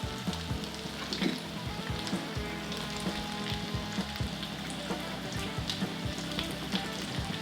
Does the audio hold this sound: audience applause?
no